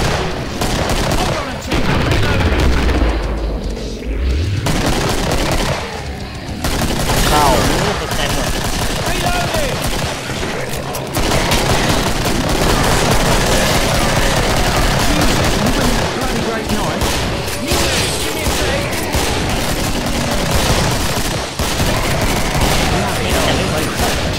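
Dense, loud gunfire from the shooter game Killing Floor: rapid bursts and volleys of shots fill the whole stretch almost without pause, with chaotic game noise and a voice talking underneath.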